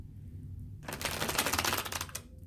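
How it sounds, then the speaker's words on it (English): Tarot cards shuffled by hand in a rapid riffle lasting over a second, loud, crisp and close, following a quiet pause, with no talking. "Couple more shuffles and then we'll keep going."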